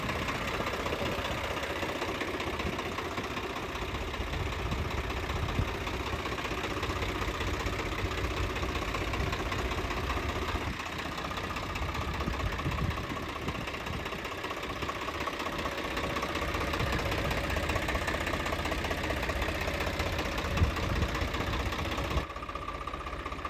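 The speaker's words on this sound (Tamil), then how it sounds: "இந்த டிராக்டர் மகேந்திரா யுவோ டெக் ப்ளஸ் 405 டிஐங்க" A 2022 Mahindra Yuvo Tech Plus 405 DI tractor engine idles steadily throughout, a constant close rumble with a faint mechanical knock and no talk.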